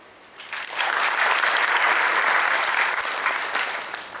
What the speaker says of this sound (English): Let's give a huge round of applause to all our participating institutions